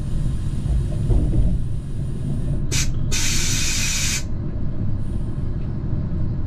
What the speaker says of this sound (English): the noise of the brakes as we come to a stop, as seen here with our stop at Herford